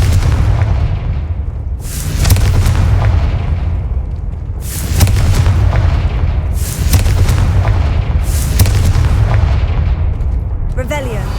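In Hogwarts Legacy, four loud, deep explosions from the Confringo spell boom at roughly regular intervals of a few seconds, each followed by a rumbling tail over a steady background din.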